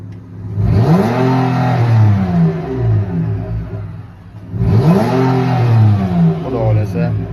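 Petrol engine of a Kia Carnival revving up twice, each time climbing sharply to a loud, close roar and then winding back down to idle.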